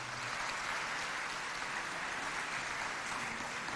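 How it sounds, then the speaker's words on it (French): A hall full of people at an official launch ceremony applauds, a steady, distant-sounding rush of clapping that stays even and fairly quiet from start to finish. "Je demande à la salle de les applaudir."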